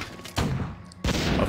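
In the Warcraft 3 video game, soldiers fire guns at skeletons in a village: two loud bursts of gunfire about half a second apart, each followed by a short ringing tail.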